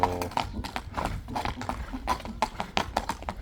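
A horse's hooves clip-clop in a quick, steady rhythm, close and distinct, as the horse is led along; no talking is heard.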